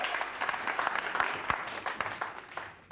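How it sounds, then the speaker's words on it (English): Comedy club audience applauding a stand-up comic, a steady wash of many hands clapping at moderate distance for about three seconds, with no talk over it. "Give yourselves a round of applause for coming out tonight"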